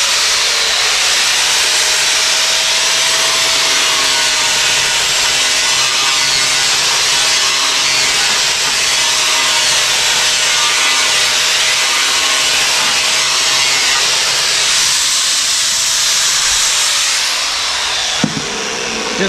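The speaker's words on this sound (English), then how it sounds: "your little high speed grinder, and we can put a nice bevel or radius" A high-speed grinder bevels the edge of a 3/4-inch fiberglassed plywood panel, a loud, steady, close abrasive whine with hissing grit that holds for most of the stretch before winding down near the end.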